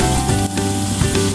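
Bagoong (fermented shrimp paste) sizzles steadily in a pan over low heat with onion and garlic, a dense continuous hiss with faint clinks throughout and no talk.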